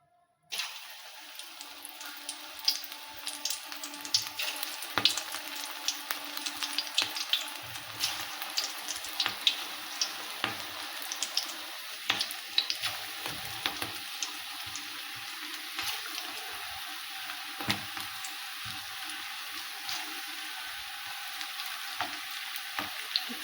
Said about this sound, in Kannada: ಎಣ್ಣೆ ಕಾಯನ ಬಜ್ಜಿ ಬಿಡ್ತೀನಿ ನೋಡಿರಿ